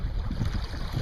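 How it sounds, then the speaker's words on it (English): Steady wind of about 10 miles an hour blusters across the microphone at a coastal point in a continuous low rumble, with no voices. "It's a little windy."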